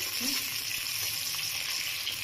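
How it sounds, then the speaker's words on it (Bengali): Bitter gourd sizzles in hot oil in a wok, frying for bitter-gourd shukto with occasional stirring; a steady, moderately quiet crackle with no voices. "উচ্ছেটাকে আমি হালকা করে আলাদা করে ভেজে নেব"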